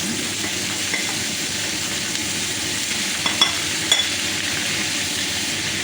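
Vegetables with spinach, sweet beans and longganisa sausage stir-frying in a hot pan, a steady close sizzle with a couple of brief utensil clinks against the pan.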